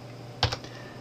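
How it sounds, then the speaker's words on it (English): A computer keyboard gets two quick keystrokes, a sharp press followed by a lighter tap, close and clear over a low steady hum. "Hold this key down and then tap the E key on the keyboard."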